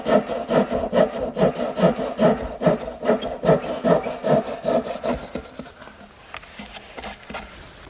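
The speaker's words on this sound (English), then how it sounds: "I'm simply going to use my dovetailing saw." A dovetail saw makes crosscuts in wood with a rapid, even back-and-forth rasping rhythm up close, the strokes slowing and fading toward the end.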